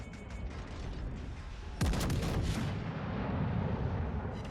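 High caliber guns on a warship in World of Warships Legends fire one heavy booming salvo partway through, with a deep rumbling tail over steady game ambience and no talking.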